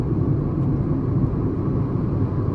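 A Hyundai Aura compact sedan cruising at 100 km/h, heard from inside as a steady, loud low rumble of engine and road noise with a constant whir and no distinct events.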